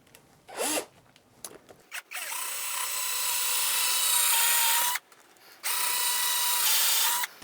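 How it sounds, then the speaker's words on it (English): A power drill boring screw holes into model railroad roadbed, two sustained whirring runs, the first longer, each separated by short pauses with small handling clicks. "put in a couple of holes for these screws that I'm going to use to hold everything in place"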